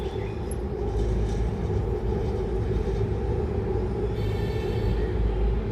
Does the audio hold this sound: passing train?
yes